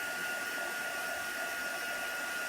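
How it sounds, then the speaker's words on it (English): A heat gun or blow dryer heat-setting chalk paste in a crafting session, a steady loud whooshing blower hum with no change throughout. "I always heat set with a heat gun or a blow dryer"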